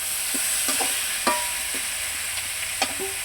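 Cauliflower and potato pieces stirred as they fry in a pan, a continuous sizzle punctuated by several light spatula scrapes and taps at an uneven pace.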